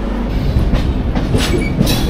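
The Dhauli Express rumbles out of Bhubaneswar station, heard from inside a C3 compartment as a loud, continuous rolling clatter with faint rhythmic wheel clicks and no voices.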